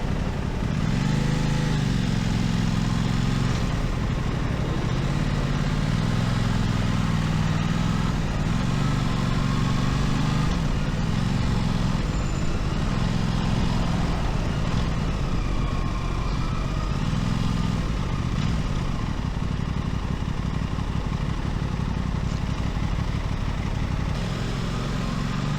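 An Aprilia RS660 motorcycle engine cruises in top gear at about 80 km/h, a steady mid-pitched drone with slight rises and falls in tone, heard continuously without any talk.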